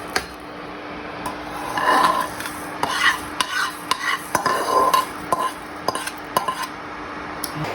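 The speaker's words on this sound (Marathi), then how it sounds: "मेथ्या पण आपल्या लगेच भाजल्या जातात त्यामुळे आपल्याला ह्या एकसारखं परतून लगेच काढून घ्यायच्या आहेत" Fenugreek seeds are stirred and dry-roasted in a kadhai for Kolhapuri chutney, giving a steady scraping and rustling with soft crackle at close range, repeated strokes throughout, no talking.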